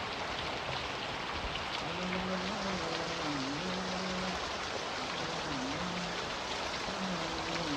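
Monsoon rain pours steadily over a village, a dense even hiss with a faint wavering tone drifting underneath and no voices.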